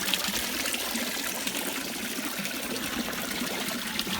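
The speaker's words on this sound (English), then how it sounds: "Water goes in here and falls out this way." Water falls through a planter bio filter with a plant on top into a fish tank, a steady close trickle and splash that runs without a break.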